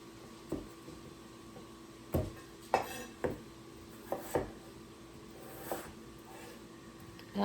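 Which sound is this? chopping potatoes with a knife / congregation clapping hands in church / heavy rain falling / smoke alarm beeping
chopping potatoes with a knife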